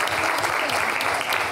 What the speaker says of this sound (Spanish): dale un aplauso, por favor